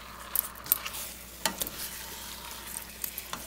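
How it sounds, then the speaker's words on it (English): Marinated pork belly stirred into caramelized sugar over medium heat, giving a quiet sizzle with soft scraping stirs and a few brief clinks, no talking. "I'm going to stir this pork into that caramelized sugar"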